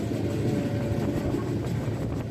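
Steady low rumble and rattle of the moving Kerala Express, heard from inside a 3AC economy carriage, constant and unbroken.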